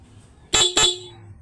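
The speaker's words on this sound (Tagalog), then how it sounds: "Stock horn." A stock car horn sounds twice in quick succession, two short loud honks close by.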